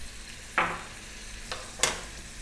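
Carrots, sweet potato, thyme and paprika frying over high heat in a pan make a steady low sizzle, broken by three brief scraping stirs, one louder than the others, with no talking.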